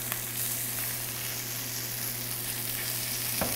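Pork chops frying in hot oil with rosemary, an even, continuous sizzle close by with a steady low hum beneath and a faint knock near the end.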